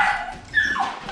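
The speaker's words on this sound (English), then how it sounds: "So Ruby is an F1 Golden Doodle." Ruby, an F1 Golden Doodle, lets out a short high whimper that rises into a yelping bark, close and fairly loud, lasting about a second.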